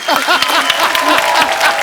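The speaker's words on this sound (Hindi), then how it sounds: "साइना के लिए जोरदार तालियां।" Studio audience applause on a televised Indian comedy talk show, a burst of clapping with some voices mixed in, fairly loud and close throughout.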